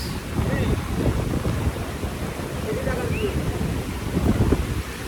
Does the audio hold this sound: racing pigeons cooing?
no